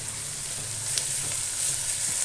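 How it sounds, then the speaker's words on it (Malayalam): Crushed ginger, garlic and salt sauté in hot oil for a chickpea curry, giving a steady close sizzle with faint stirring scrapes throughout. "എന്നിട്ട് നല്ലപോലെ വഴറ്റുക."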